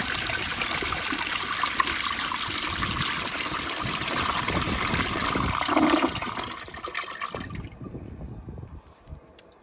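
An American Standard Space Saver Cadet toilet with a water-saving flapper flushes in a loud, rushing swirl for several seconds, then drains with gurgles and fades to a faint refill trickle.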